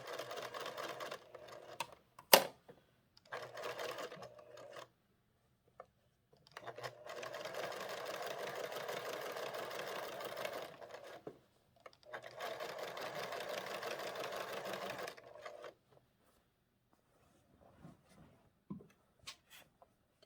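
A sewing machine stitches a hanging sleeve onto an already-bound quilt in several close, rapid runs of even needle chatter, separated by short stops and quiet handling.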